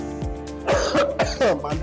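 Several short, harsh coughs from a man in a school classroom in quick succession, close and fairly loud, with throaty clearing sounds between them.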